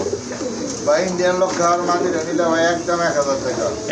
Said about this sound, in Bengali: আরেক জোড়া কবুতর এখানে